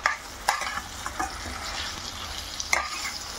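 Mustard tempering for a raw banana curry crackles and sizzles in oil, with sharp popping bursts scattered over a steady frying hiss, close and moderately loud with no voices.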